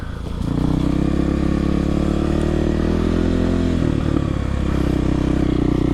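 A Kawasaki KLX 300R dirt bike ridden on woodland trails, its engine rising from near silence into a loud, close, steady drone with slight shifts in pitch and a faint mechanical clatter.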